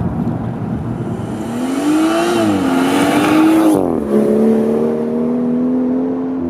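A BMW M240i accelerates hard, with loud, close engine revs climbing steadily, a brief dip at a gear change partway through, then pulling strongly again. No one speaks.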